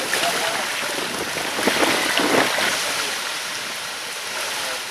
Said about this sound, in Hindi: पानी का बहाव इस कदर तेज है